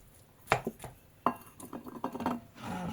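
Sautéed onion being stirred in a cooking pan for a simple lasagna, with a few sharp metallic utensil clinks and scrapes against the pan followed by softer, irregular stirring clatter, close and fairly quiet.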